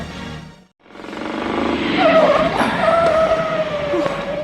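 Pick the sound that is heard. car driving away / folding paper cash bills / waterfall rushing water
car driving away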